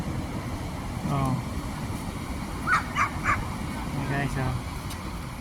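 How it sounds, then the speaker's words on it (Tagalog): Dogs bark a few times on a beach in Barcelona, moderately close, under steady wind or strong surf noise while a person talks. "Mga nagpapasyal ang aso, sila, mga alagang aso."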